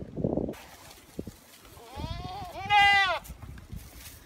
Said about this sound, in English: So I'm going to turn these goats in on this round bale and let them get to eating.